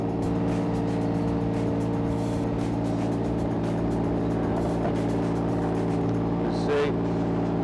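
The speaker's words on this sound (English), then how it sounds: "digger's moving a bit" Close, continuous rumble of a digger excavator working on a difficult trench dig, its engine holding a steady drone throughout with faint clanks, while people talk in the background.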